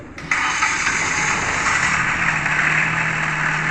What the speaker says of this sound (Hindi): ये देखें पहले ही सेल्फ में व्यूअर्स इंजन मेरा स्टार्ट हो चुका है।